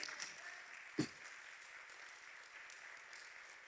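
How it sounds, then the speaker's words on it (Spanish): A church congregation applauds during a sermon. The applause is a faint, distant, steady wash of clapping that holds for the whole stretch, with one sharp thump near the start. "Denle un aplauso a ese Señor."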